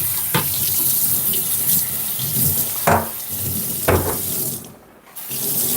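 Water runs from a kitchen tap while something is rinsed after making béchamel pasta, a close, continuous splashing stream with a few sharper splashes and a brief dip in flow.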